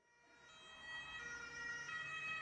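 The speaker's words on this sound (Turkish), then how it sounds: "İşte alt katta rahatsızlanan bayan için çağırdığımız ambulans geldi." An ambulance siren, played as a sound effect in a radio play, wails steadily and grows louder as the vehicle approaches, with a faint road rumble underneath and no voices.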